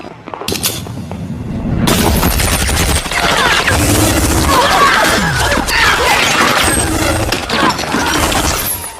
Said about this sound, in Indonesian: Duncan mengeluarkan senjata canggih di tangannya lalu menghabisi mereka termasuk Vivian